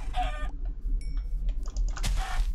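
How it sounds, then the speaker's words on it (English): Chickens cluck in the Minecraft video game, with two bursts of close, bright clucking at the start and near the end over a low steady background; no speech. "to kill some more chickens"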